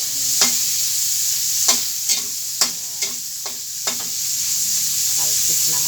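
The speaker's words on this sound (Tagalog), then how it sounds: "Talsik ng mantika." Hot cooking oil splattering in a frying pan, with sharp crackling pops at irregular intervals over a steady sizzle, close and loud.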